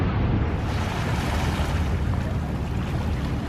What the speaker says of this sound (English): It's such a beautiful sound of lapping waves.